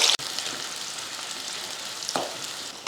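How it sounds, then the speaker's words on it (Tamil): Two large onions sliced lengthwise fry in oil in a pan, giving a steady close sizzle with a couple of brief stir clatters, no talk. "அதை எண்ணெயில் போட்டு பொன்னீரமாக வறுத்துக்கலாம்"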